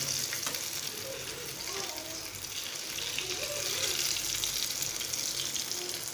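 Potato cutlets fry in hot oil with a continuous crackling, bubbling hiss that swells slightly midway, while a soft voice murmurs faintly underneath.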